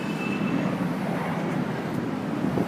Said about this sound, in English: Aeroplanes, aren't they brilliant?